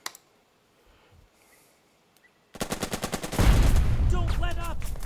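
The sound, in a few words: gunfire in the video game Burden of Command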